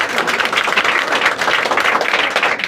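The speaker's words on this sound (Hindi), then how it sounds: "एक बार जोरदार ताली हो जाए उस लड़की के नाम पे" Dense, loud applause from an audience honouring a student at an award ceremony for 10th-grade exam results held by a coaching centre in Siwan, sustained and even throughout with no voices.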